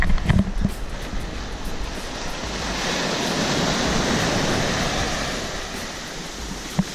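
Waves break at the beach in Kihei, Hawaii, with a steady roaring wash of surf close by, swelling in the middle, and some wind buffeting the microphone.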